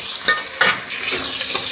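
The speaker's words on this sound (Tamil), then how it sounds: "Onion brown ஆகிடுச்சுங்க." Onions frying in a pan with a steady sizzle while a spoon stirs and scrapes through them, giving a few soft clinks, close and continuous.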